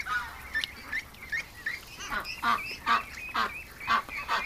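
Several ducks give repeated nasal honking calls in irregular bursts, fairly close and growing louder toward the end, with no talking over them.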